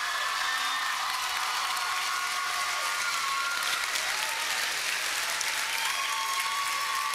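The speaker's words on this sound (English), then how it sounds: "one more big round of applause for Caron Butler." A crowd at a Milwaukee Bucks press conference held at a high school bursts into sustained applause, loud and continuous from start to finish with no voices breaking through.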